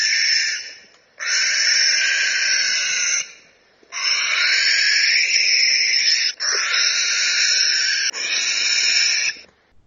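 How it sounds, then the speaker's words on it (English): A barn owl gives a series of long, harsh, hissing screams, about four drawn-out shrieks separated by brief pauses, loud and close with no other sounds. "let me play for you the barn owl screaming"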